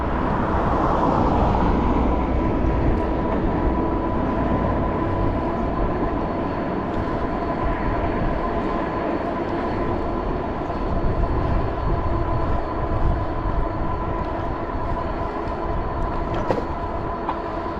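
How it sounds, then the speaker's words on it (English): A train rumbles steadily alongside a rail trail, a loud, continuous roar of rolling wheels and rail noise that holds throughout with no voices. "Plus all these trains."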